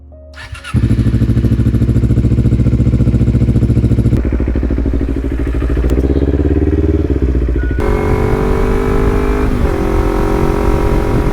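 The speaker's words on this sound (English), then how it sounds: "I decided I'm gonna go for a ride on the bike." Motorcycle engine roaring close and loud for a ride on a warm day, starting abruptly and holding a steady throaty drone that shifts pitch as it revs and changes gear, with wind-like rumble underneath.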